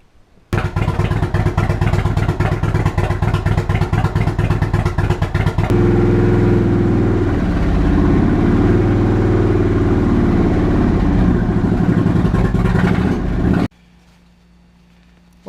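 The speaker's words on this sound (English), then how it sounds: "I'm going to lower it off the lift and give it a start and check for leaks." Indian 111 or 116 motorcycle engine, fresh from an oil filter change, cranks and fires, then runs loud and close with a rumbling, clattering idle for about thirteen seconds before cutting off abruptly.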